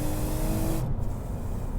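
A 2018 Toyota Camry's engine pulls under acceleration, a loud, steady broadband drone from inside the moving car with road and wind noise mixed in, no speech.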